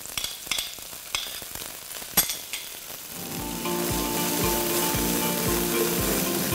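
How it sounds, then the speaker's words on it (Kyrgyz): Onions fry in vegetable oil in a pan with a loud, steady sizzle that swells after a few scattered clicks and clatters, with occasional stirring noises and no voices. "Андан кийин биз пиязды кууруп алабыз бир аз."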